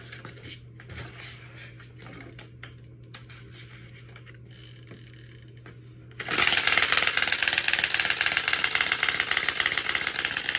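Quiet clicking and rattling, then a sudden loud, buzzy flapping rattle kicks in and continues steadily, like playing cards taped to slap bicycle spokes to mimic a motorcycle.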